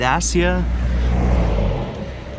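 Dacia rental car with manual transmission, its engine humming low and steady close by under a voice, fading out near the end.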